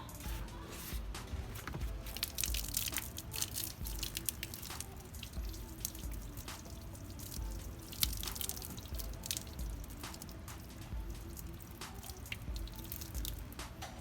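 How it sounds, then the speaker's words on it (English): Hot water pouring and splashing onto a dented rear car bumper, a steady close stream with dripping and scattered splatter that runs continuously and fairly loud, with no talking. "let me just pour the hot water"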